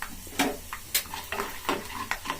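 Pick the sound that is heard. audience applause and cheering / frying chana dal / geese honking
frying chana dal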